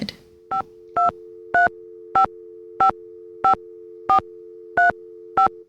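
Telephone touch-tone dialing plays over a steady dial tone in a Nancy Drew game, with nine evenly spaced, clear beeps of varying pitch.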